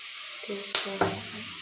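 Cabbage frying in a pan as chilli powder, pepper and masala are added, a steady close sizzle with two sharp clatters from a spoon or pan partway through and no talking.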